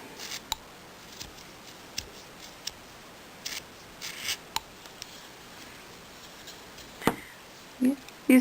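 Scissors snipping a tree-stump shape for a hobo snowman tree ornament, heard as a string of crisp close cuts, some single and some in short bursts, over a quiet room with no talk.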